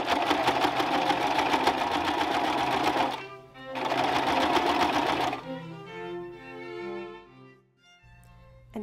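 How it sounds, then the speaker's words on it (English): A sewing machine stitches a Regency corset gusset close to the edge, giving two loud continuous runs of rapid needle chatter split by a short stop, then slower, sparser stitching under a soft voice. "The gusset is sewn in place by stitching as close to the edge as possible."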